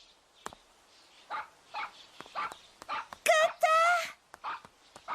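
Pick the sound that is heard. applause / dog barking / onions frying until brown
dog barking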